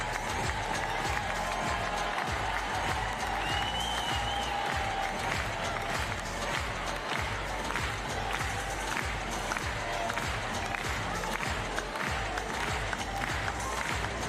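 A crowd at a wheelchair tennis match applauds in a dense, continuous wash of clapping from a large audience that lasts throughout, with faint voices mixed in.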